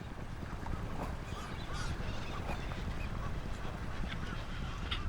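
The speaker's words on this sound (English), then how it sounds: "A colony of tens of thousands of birds, masked boobies, coots, herons" A seabird colony of masked boobies, coots and herons on Clipperton's lagoon shore gives a dense, continuous din of overlapping honking and squawking calls, loud and close, with no clear pauses.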